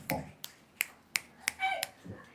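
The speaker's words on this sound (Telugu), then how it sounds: "చిటికలు చిటికలు చిటికలు చిటికలు చిటికలు" A comedy-show audience at a Telugu stand-up gig snapping their fingers in a quick series of sharp, separate snaps, with some murmuring voices mixed in.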